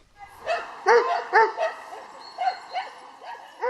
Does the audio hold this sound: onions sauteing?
no